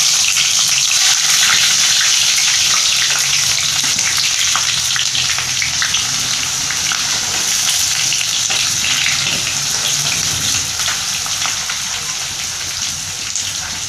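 Sliced onions frying loudly in very hot oil for Pakistani mash ki daal, a dense, steady crackling sizzle that runs the whole time with no voices.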